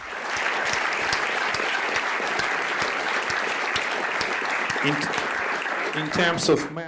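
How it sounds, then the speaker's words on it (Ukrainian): A crowd applauds in honour of Ukrainian soldiers, loud sustained clapping with sharp individual claps standing out, continuing for several seconds before a voice begins speaking over the tail end. "І я вважаю, що вони заслуговують на ваші оплески."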